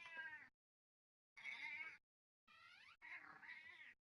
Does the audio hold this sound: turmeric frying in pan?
no